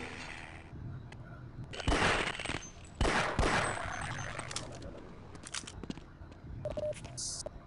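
Enemy gunfire in the video game Half-Life, a few close sharp bursts of shots around the middle, with quieter game noises and clicks between them.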